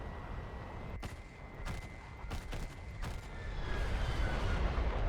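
Aircraft guns firing in War Thunder, heard as several short, sharp bursts spaced roughly a second apart over a steady engine drone that grows louder toward the end.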